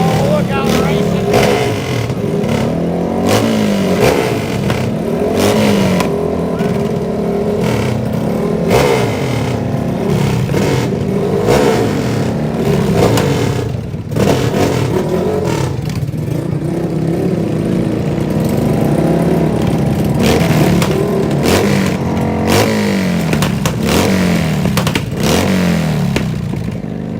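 Drag racing cars at a no-prep street track rev and accelerate, a dense, loud engine roar with repeated surges throughout, mixed with crowd noise and people talking.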